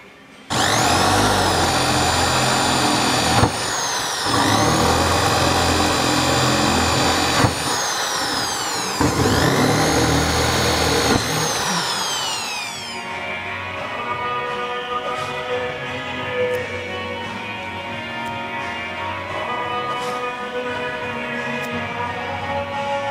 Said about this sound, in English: I'll get my drill and get started.